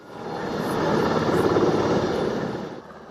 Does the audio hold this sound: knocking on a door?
no